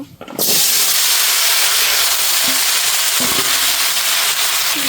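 Vegetables hit hot oil seasoned with cumin, setting off a sudden loud sizzle that holds as a thick, steady hiss with faint pops underneath, close by and with no talking.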